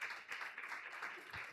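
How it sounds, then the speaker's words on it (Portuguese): A church congregation at a Bible study gives brief, faint applause, a soft wash of scattered clapping from a small crowd with no voices over it. "Palmas para os nossos irmãos."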